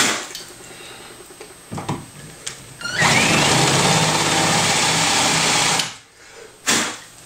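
An HO scale model train locomotive speeds up into a loud, steady high-pitched mechanical whir lasting about three seconds, preceded by faint clicks and handling noises, then cutting off abruptly with a short bump afterward.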